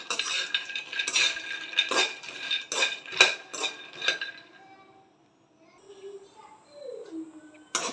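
Makhana, lotus seeds and nuts dry-roasting in a pan, a spoon clattering and scraping against the metal in a quick series of sharp knocks, then birds chirping faintly in a quieter stretch.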